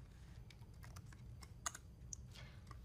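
Someone types on a computer keyboard at a command line using tab completion, producing quiet, irregular key clicks with one sharper tap, close and faint over a low background hum.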